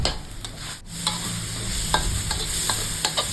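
Minced pork with oyster sauce, soy sauce, fish sauce and sugar stir-fried in a pan, a steady close sizzle broken by sharp scrapes and clicks of a spatula stirring through the meat.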